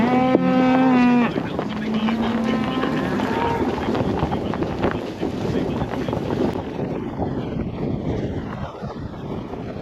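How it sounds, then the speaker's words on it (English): Cattle moo loudly and close by at the start, one long low call followed by another. Wind buffets the microphone and people talk in the background. "Cows are wanting silage."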